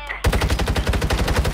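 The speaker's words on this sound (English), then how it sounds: "Man, these kids are shooting" Rapid automatic gunfire rattles in fast, evenly spaced bursts in the Warzone Mobile video game, loud and close after a short lead-in, continuing without pause.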